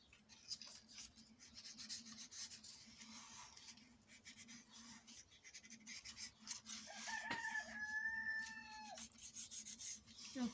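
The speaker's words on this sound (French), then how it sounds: "Le coq." A rooster crows near the end, a clear rising and falling call standing out over a steady low hum and scattered rustling and rubbing noises, with no talking.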